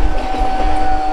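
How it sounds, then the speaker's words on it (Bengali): A Bombardier-built suburban electric train rake running out of Sealdah gives a steady, loud rumble with a constant electrical whine and no voices. "এটা বোম্বার্ডিয়ার রেক।"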